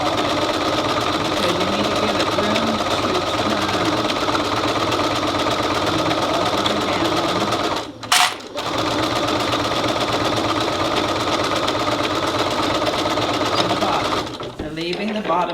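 A sewing machine stitches across the thumb area of a homemade oven mitt, running steadily and close for most of the time, with a short pause near the middle before it resumes.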